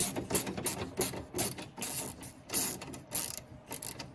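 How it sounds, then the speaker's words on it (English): Rapid clicking of a quarter-inch drive ratcheting thumb driver, a dense run of sharp ratchet-and-pawl ticks in quick bursts, close and fairly loud with no talk. "I actually have one of these little thumb drives. It's a ratcheting thing."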